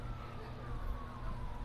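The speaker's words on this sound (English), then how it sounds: "I hear the cop sirens, but I don't see them anywhere." Faint video game police sirens wail in the distance under a steady rumble of traffic, their tone sliding slowly, with no talking.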